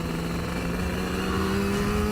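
A Banshee-powered Yamaha YZF R3 racing motorcycle runs on a track during a warm-up lap, its engine holding a steady, close drone with no pauses throughout.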